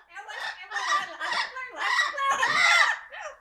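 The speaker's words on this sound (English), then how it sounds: "The birds are here! Yeah, they are yapping." Amazon parrots squawk loudly and continuously nearby, a run of harsh, overlapping calls with no pauses and no talking over them.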